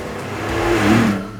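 A Lamborghini Diablo restomod by Eccentrica revs in one brief, rising surge that peaks and then eases off. It is heard up close with no talking.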